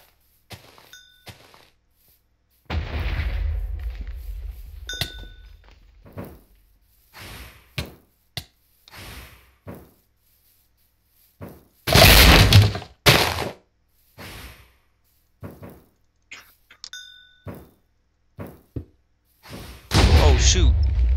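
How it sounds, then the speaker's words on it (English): A bomb explodes in Minecraft as a sudden loud burst, set among scattered in-game thuds, clicks and a player's talk. "Didn't notice that guy threw a bomb till the last second."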